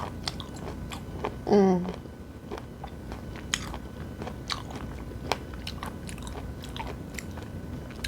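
Raw abalone sashimi chewed close to the mic, crisp crunchy bites and wet chewing clicks repeating irregularly, with a brief hum of appreciation partway through.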